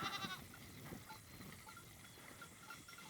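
Goats and sheep bleating close by on a farm, with a loud call at the start and softer, scattered bleats after it.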